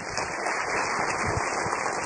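Steady audience applause fills the room after a talk, a dense continuous wash of many hands clapping at once with no voices on top.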